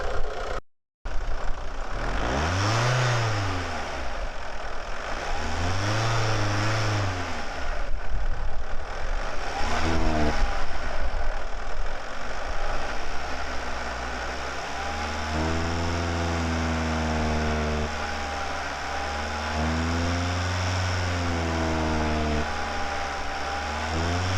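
A van engine revs up and down repeatedly, rising and falling in pitch, with a steady mechanical rattle running underneath, close and loud, mimicking a noise it makes while driving.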